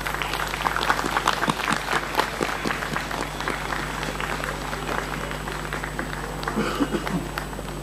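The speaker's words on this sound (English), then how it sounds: "A huge round of applause." Audience applause at a live Indian classical flute concert, a steady dense wash of clapping heard through a persistent electrical hum, with faint voices mixed in.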